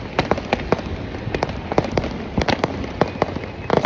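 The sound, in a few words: New Year firecrackers bursting all around in Krishnagiri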